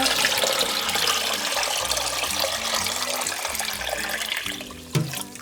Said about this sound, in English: So I'm just gonna fill this thing with water.